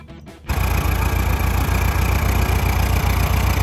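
A 1973 VW Beetle engine fitted with a new fuel pump catches and settles into a steady, loud, close idle with a regular pulsing chug after a short quiet start.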